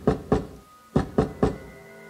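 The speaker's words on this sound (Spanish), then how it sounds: "escuché unos toquidos insistentes en la puerta" Insistent knocking on a door: two quick raps, a short pause, then three more firm knocks, close and distinct against a quiet background, with no talking.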